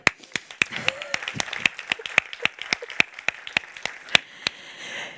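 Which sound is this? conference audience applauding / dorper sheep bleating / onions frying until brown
conference audience applauding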